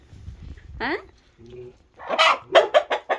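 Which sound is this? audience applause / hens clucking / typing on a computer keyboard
hens clucking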